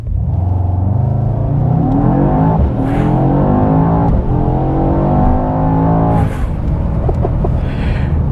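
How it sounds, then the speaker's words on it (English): A 2021 Mercedes-AMG E63 S sedan with a nine-speed gearbox accelerates hard, its engine revving loudly and rising in pitch across quick upshifts, heard close from inside the car. "I'm just gonna hit the accelerator."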